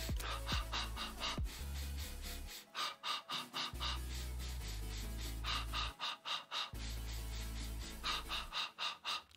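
Rapid, rhythmic breathing from an advanced Pilates exercise: quick, sharp breath bursts repeat steadily over background music.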